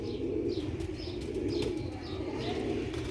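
Old-breed Sialkoti pigeons coo steadily in a close, continuous low murmur, with a few faint chirps from other birds above.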